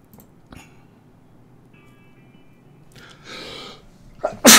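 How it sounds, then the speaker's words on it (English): A man sneezes loudly and close by after a quiet stretch, with a breathy intake first and the sharp burst at the very end. "you can make a wish on a YouTuber's sneeze"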